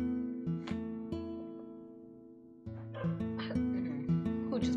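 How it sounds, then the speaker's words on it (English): A dog in the video game Undertale gives several short, sharp yips and barks over steady, sustained game music. "Who just barked?"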